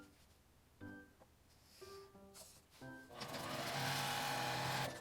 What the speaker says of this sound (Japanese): 真ん中に線を引いてミシンで縫います。